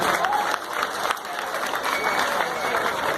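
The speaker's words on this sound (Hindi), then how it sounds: "टोटल यात्रा इंडस्ट्री के लिए जोरदार ताली होना चाहिए।" Applause from an audience for the Odia jatra theatre industry, a brief, dense burst of clapping that stays fairly even throughout and blends with a little crowd murmur.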